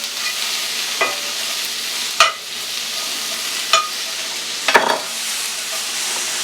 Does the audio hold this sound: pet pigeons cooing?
no